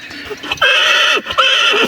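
A six-year-old stallion neighs loudly and close by, two long whinnies in quick succession with shaky, wavering pitch.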